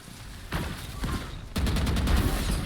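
Gunfire in the tactical shooter Valorant: a sharp burst of shots, then after a pause a louder, sustained volley of rapid repeated cracks, close and dense, with no talking.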